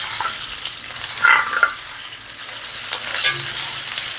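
Garlic ginger paste fries in a hot pan with a steady, close sizzle, broken by a few louder scraping stirs near the middle and again later; no one speaks.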